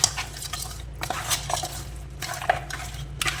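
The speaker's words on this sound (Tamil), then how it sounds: "ஸோ இப்போ நல்லா மிக்ஸ் பண்ணிடலாம்." A spoon scrapes and clinks against a pan while fish curry is stirred and mixed, with irregular metallic knocks and wet sloshing up close and no voices.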